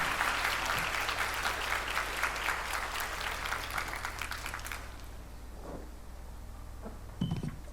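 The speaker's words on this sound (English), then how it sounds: "Let's give him another round of applause." An audience at a Nigerian insurance brokers' mid-year workshop claps loudly and steadily for about five seconds, then the applause quickly thins out into scattered final claps.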